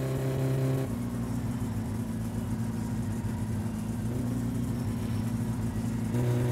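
Car engine in My Summer Car roaring steadily at high speed, well over 160 km/h on a highway, a loud, continuous drone that shifts pitch slightly partway through.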